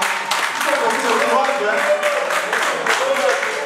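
Steady applause fills a youth hall after a presentation, continuous hand clapping with a voice speaking over it, sustained and fairly loud throughout.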